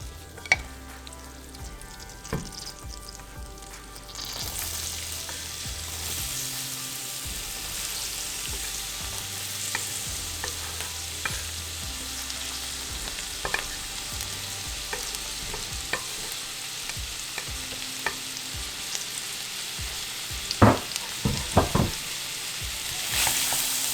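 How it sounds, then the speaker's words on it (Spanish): Chopped onion sizzles in melted butter in a pan on a stovetop, a steady frying hiss that starts after a quiet opening, with occasional clacks of a utensil stirring. "Vamos a poner la mantequilla y esperamos a que se derrita. Ahora vamos a agregar la cebolla."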